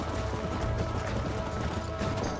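Horse hooves pound in a steady gallop in the Red Dead Redemption video game, a busy, continuous clatter of hoofbeats layered over game sound and loud throughout.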